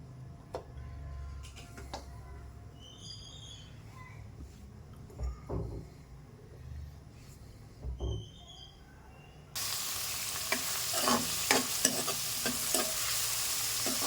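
Chopped onion, green chillies and curry leaves frying in oil over a high flame: a few quiet clicks and stirring knocks, then a sudden bright, loud sizzle that stays on with spoon strikes against the pan.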